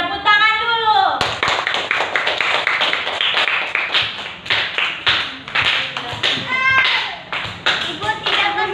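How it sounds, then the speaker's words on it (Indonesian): Schoolchildren in a fourth-grade primary classroom clap their hands together in a loud, lively burst of quick, uneven claps lasting several seconds, with faint children's voices mixed in. "Oke, tepuk tangan dulu."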